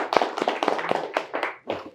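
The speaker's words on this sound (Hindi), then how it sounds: "जोरदार तालियां इनके लिए" Clapping from a small group during a repair training course session, a short burst of distinct, uneven claps at close range, with no voice over it.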